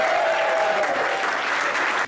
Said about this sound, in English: Give her a great round of applause.